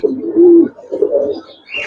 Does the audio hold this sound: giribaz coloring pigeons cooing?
yes